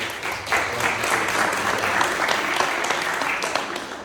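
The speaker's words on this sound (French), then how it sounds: "On peut l'applaudir" Steady applause from a congregation in a synagogue after a lecture, dense clapping filling the space for several seconds without pause.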